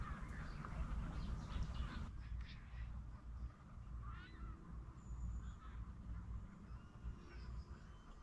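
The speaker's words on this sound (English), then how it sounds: "Geese have been flying over and making one hell of a racket" Geese honk repeatedly as they fly over a campsite on the Norfolk Broads, calls rising and falling at a moderate distance over steady low rumbling background noise.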